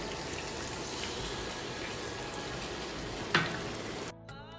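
Pieces of fish frying in hot oil with spices, a steady close sizzle running throughout, with one sharp clatter near the end before the frying fades.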